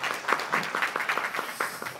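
An audience at a volunteer policy forum claps in welcome, a moderately loud, dense patter of many hands lasting the whole moment with no voices over it.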